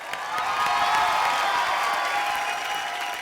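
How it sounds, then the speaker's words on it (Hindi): Loud audience applause with cheering fills a comedy show stage, a dense steady roar of clapping held throughout without talk. "जोरदार तालियां"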